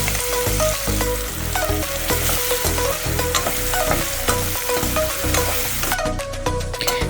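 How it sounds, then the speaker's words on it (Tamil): Onion and tomato sauté in hot oil in a pan, giving a steady, close sizzle with stirring throughout and no speech. "இதையும் போட்டு நல்லா வதக்கி விட்டுக்கோங்க."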